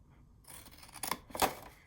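Scissors snipping through patterned scrapbook paper for a junk journal pocket, a few quick close crisp cuts building to a louder final snip, with no talk over them.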